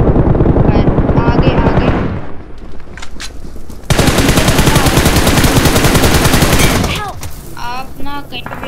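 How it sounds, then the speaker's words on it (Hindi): Heavy automatic gunfire rattles from multiple directions during a PUBG Mobile match, with loud sustained bursts and a few gaps, while someone talks over the shooting. "दोनों तरफ से फायर चल रहा"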